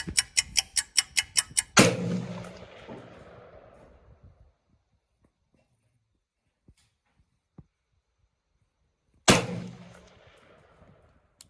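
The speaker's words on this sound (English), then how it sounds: "I'm gonna throw 2 shots at it from 100 yards" Two loud rifle shots fired at a target 100 yards away, the first preceded by a quick series of sharp ticks, each shot booming and echoing out, separated by several seconds of near silence.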